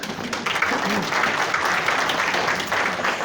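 An audience at a cosmetics company event bursts into steady, dense applause, many hands clapping continuously at close range, with no break from start to finish.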